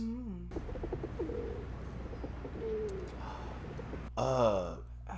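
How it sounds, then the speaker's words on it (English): Pigeons coo in soft, low, throaty bursts that come and go, with a brighter call near the end, against a muffled background with faint voices. "What are they putting on them pigeons?"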